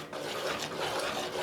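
A sweet mixture cooked with ghee in a pan for a festival sweet (diamond cuts) is stirred steadily, giving a continuous close scraping and rubbing texture with no talk.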